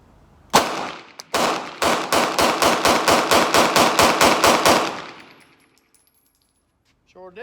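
A Glock pistol fitted with a 43 slide and a Shield Arms magazine fires a loud, rapid string of roughly seventeen evenly spaced shots close by, after one opening shot, then the firing stops and it falls quiet.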